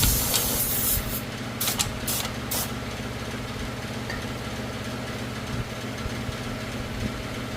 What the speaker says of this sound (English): we'll just hit it with a little brake clean.